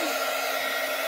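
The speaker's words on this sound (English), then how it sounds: "I'm going to hit them with a heat gun, even though you get a better result if you just wait." Heat gun blowing air over watercolor floral cards, a steady close whooshing roar with no talk.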